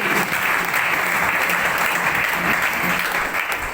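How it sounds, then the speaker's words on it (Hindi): An audience at a company gathering claps together, a loud, close and sustained burst of hand clapping that stays dense and even from start to finish. "एक बार ताली चाहूंगा उनके लिए।"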